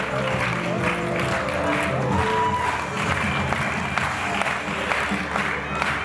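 An audience at a dance performance breaks into sustained applause, a dense wash of many hands clapping continuously, with crowd noise and some voices mixed underneath throughout.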